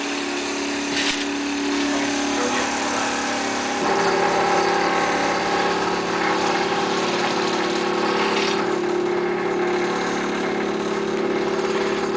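A CNC sign cutter cutting out the inside of a letter B drones with a steady mid-pitched motor whine and hum, continuous and fairly loud, shifting tone slightly partway through.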